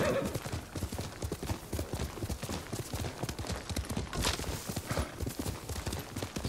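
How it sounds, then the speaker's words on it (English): Horse hooves clip-clop in the video game Ghost of Tsushima, a steady, close, rhythmic run of hoofbeats throughout with no talking. "Get our horse. There's the horse."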